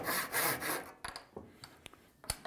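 Hand saw cutting a corner slip joint in poplar, a few rapid rasping strokes followed by quieter, spaced sawing scrapes and taps, close and clear.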